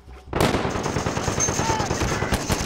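Rapid automatic gunfire in the video game Call of Duty Warzone, a dense sustained burst of sharp shots that starts abruptly and continues loudly throughout.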